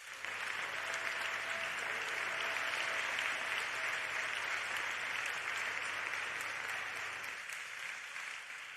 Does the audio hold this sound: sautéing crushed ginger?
no